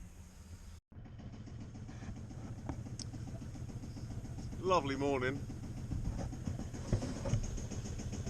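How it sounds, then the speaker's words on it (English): A long-keeled boat's engine idles with a steady low rumble through the whole stretch while someone briefly speaks over it, and a bird's warbling call rises faintly in the middle. "Apart from the roar of my engine, it's dead quiet and flat."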